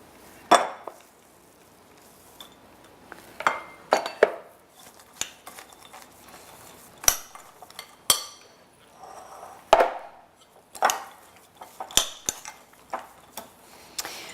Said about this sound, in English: now we're going to mix it with some walnuts